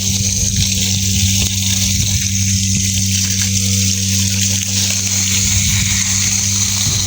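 A water pump sprays water onto garden plants at strong pressure, giving a loud constant motor hum with a rushing, hissing spray throughout.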